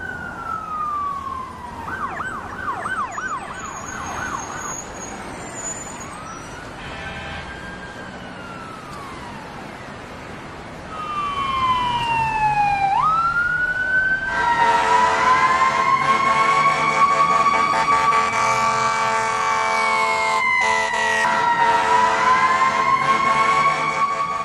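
A fire engine siren wails alone, starting with sweeping tones and short yelps, then rising into a louder, steady two-tone wail that continues to the end.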